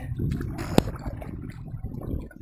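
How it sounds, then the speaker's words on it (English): Steady splashing and gurgling of water with a brief knock partway through, as a kayak paddle dips and strokes close by on a fishing trip, no talking. "We're going to paddle on back."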